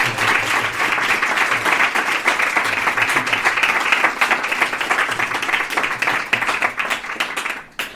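Audience applause welcoming a speaker at a talk on reincarnation, sustained crowd clapping at an even level throughout, with a slight fade at the very end.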